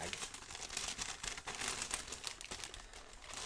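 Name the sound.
candy stripe gift bag being opened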